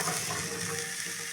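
Dried red chillies roasting in a hot pan for a GSB-style dish, producing a steady, close crackling sizzle with no pauses.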